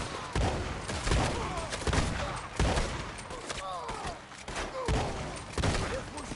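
Rapid gunfire in a Western shootout in Red Dead Redemption 2, with repeated sharp cracks and bursts spread across the scene, some near and some farther off, loud throughout.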